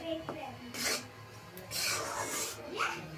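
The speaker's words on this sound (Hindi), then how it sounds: "अब मैं इसे बहुत अच्छे से चला चला के पूरा लाल करके भूनूंगी।" Wheat flour is stirred and roasted in a pan for halwa, giving soft scraping and rubbing strokes at an irregular rhythm, close and fairly quiet.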